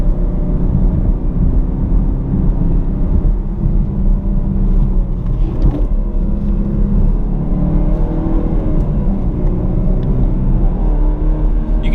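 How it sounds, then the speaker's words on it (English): A manual Chevrolet Camaro's turbocharged 2.0-litre engine roars steadily under hard acceleration, a loud, constant droning rumble with wind buffeting throughout. "You can hear that engine behind me."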